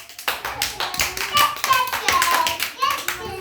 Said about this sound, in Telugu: అందరు ఒకసారి క్లాప్స్ కొట్టండి.